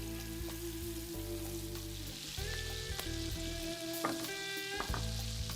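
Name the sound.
lamb patties frying in olive oil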